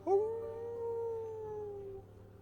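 A human voice imitates a long dog howl, one sustained rising-then-steady wail of about two seconds, close and clear with nothing else around it.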